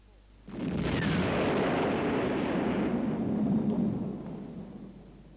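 Explosion of a model on set for a 1960s TV series filmed at Beachy Head, a sudden deep blast that swells into a sustained roaring rumble for a few seconds before tailing off.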